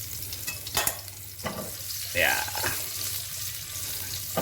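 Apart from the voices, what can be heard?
stir-frying garlic, eggplant and shallots in pan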